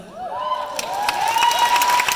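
Audience applause and cheering at a presidential candidate forum, loud and steady under a sustained tonal hum, with a brief voice at the start.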